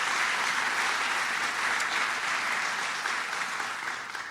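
Audience applause at a public event, a steady, dense wash of clapping that holds at full strength for several seconds before easing slightly toward the end, with no voices over it.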